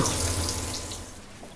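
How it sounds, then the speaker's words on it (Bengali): Water pours steadily into a pot of cooked rice to soak overnight for panta bhat, a continuous splashing stream close by without pauses or talk. "এখন আমি রান্না করা ভাতের মধ্যে নর্মাল পানি দিয়ে সারা রাত ভিজিয়ে রাখবো"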